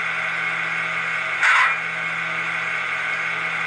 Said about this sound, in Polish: Tutaj chyba był dźwięk sprzęgu